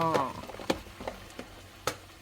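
Anchovies stir-fried in a soy-based sauce in a pan, giving a faint, soft sizzle broken by a few sharp clinks and scrapes of a utensil on the pan.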